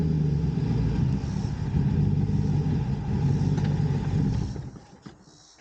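A junkyard Chevy Tahoe's engine runs steadily under throttle at close range, a loud continuous mid-pitched drone that holds for several seconds, then drops away as the revs fall near the end.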